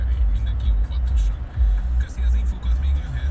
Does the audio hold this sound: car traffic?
yes